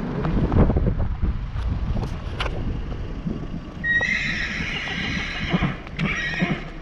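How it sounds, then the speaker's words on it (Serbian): A loose horse wandering the streets of Stara Pazova gives a shrill, wavering whinny in the second half, while its hooves clip-clop on pavement under steady wind noise, close to the microphone. "Ekipa radiotelevizije Stara Pazova zabeležila je konja koji se slobodno šeta ulicama Stare Pazove u toku policijskog časa."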